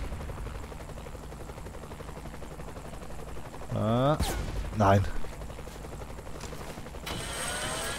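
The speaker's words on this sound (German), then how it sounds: "Achso, wir fliegen jetzt mit dem Heli weiter, oder was?" Helicopter in the video game Saints Row: The Third, a steady mechanical drone with bursts of gunfire and effects, while someone speaks German briefly over it.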